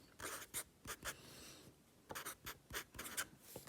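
Pen scratching out an equation by hand on paper, in quick separate strokes and short bursts with small pauses between, close and fairly quiet.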